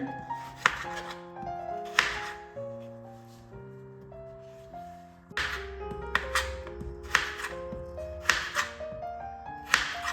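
Knife chopping potatoes into French fry fingers on a board, repeated sharp chops and taps in irregular bursts, fairly close, over a steady background of music tones, with no talk.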